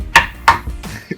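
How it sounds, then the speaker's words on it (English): Two sharp, hard whacks strike a coconut in quick succession, followed by a softer knock and a faint thud, close and dry with no talking. "First we gotta break the coconut"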